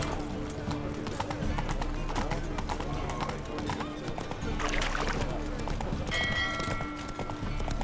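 Horse hooves clip-clop in a dense, rapid rhythm during a ride in the Witcher 3 video game, loud and close over game music and ambience, with a faint bell-like tone near the end.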